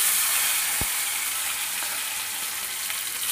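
Fish frying in hot oil gives a steady, loud crackling sizzle that stays even throughout, with one brief low thump near the start and no voices.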